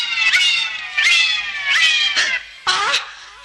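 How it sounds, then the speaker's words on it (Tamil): A cat meows loudly and close by while milk is nearby, giving five drawn-out, wailing meows in a steady rhythm with short pauses between them. "நான் குடிக்க வேண்டிய பாலை பூனை குடிச்சுக்கிட்டு இருக்கு"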